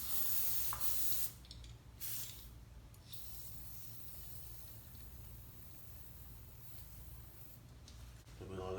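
Lubricant sprays in several bursts onto a motorcycle wheel bearing in its housing, a sharp close hiss in the first few seconds followed by softer intermittent spritzes and handling noise.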